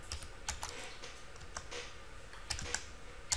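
Keys clatter on a computer keyboard in quick, irregular taps, quiet and close, with short pauses between strokes and no talking.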